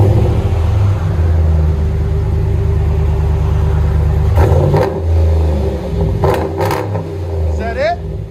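A RAM 1500 with a 5.7L HEMI V8 and Black Widow exhaust: a loud, steady idle rumble, then sharp throttle revs near the end, two close together.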